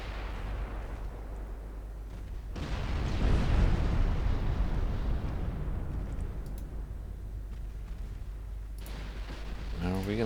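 Secondary guns on a warship fire in the naval battle game Ultimate Admiral Dreadnoughts, a rolling salvo of booming reports that swells and fades over the clip, with engine rumble underneath and a brief electronic blip near the end.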